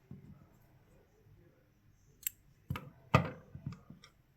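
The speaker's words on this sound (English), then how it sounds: "Okay, we cut the working yarn." Scissors snip through knitting yarn close up, a few sharp clicks and cuts near the end after quiet rustling, soft and without talk.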